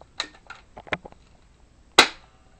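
A SCAR-L replica airsoft gun fires a single sharp, close crack, preceded by a few soft mechanical clicks and handling taps in an otherwise quiet room.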